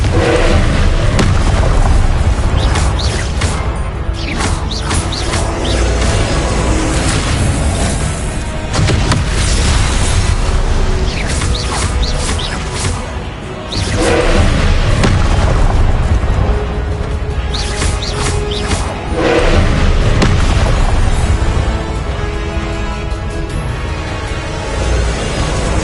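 Confringo blast spells in Hogwarts Legacy combat, a continuous barrage of heavy booming explosions and crashing impacts, loud and dense throughout, with brief dips between bursts.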